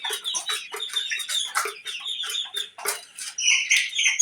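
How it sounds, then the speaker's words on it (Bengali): Desi chickens kept in a pen cluck and squawk in short, irregular bursts, close and fairly loud, with several birds calling over one another and one longer squawk near the end. "দেশি মুরগি, পিওর দেশি"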